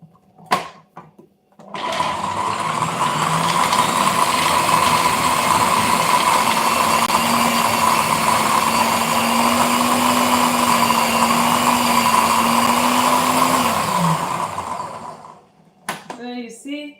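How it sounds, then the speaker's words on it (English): A blender runs steadily for about twelve seconds, chopping beetroot ingredients into a coarse blend with a loud motor whine, starting and stopping abruptly amid brief kitchen clatter. "So that is why I'm using this particular type of a blender."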